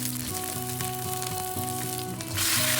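Shallots and ginger slices sizzle steadily in hot oil in a wok, a dense close frying hiss with occasional stirring, rising louder near the end.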